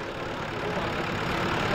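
A tractor engine idles steadily at a village tractor tochan pulling contest in Punjab, a continuous, fairly loud low rumble and mid-range drone with no break across the short stretch.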